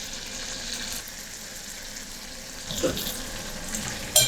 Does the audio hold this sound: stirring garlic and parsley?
yes